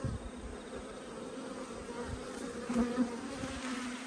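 Italian honeybees hum inside an open hive during an inspection, a dense, steady buzz with a sustained low drone and a few slightly louder swells, with no talking.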